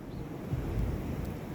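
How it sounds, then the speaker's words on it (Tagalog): Strong winter-storm wind in Canada buffets the microphone in a continuous low roar, with a faint surf-like wash behind it. "Mahangin."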